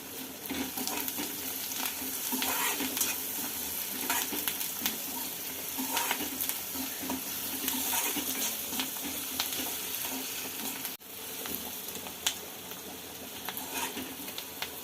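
Onions sauté with salt in a pan for a pigeon pea usal, a steady close sizzle and crackle running throughout with scattered stirring scrapes and one brief dip near the end.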